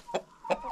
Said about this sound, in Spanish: Aquí está el gallo, que está bien bonito también.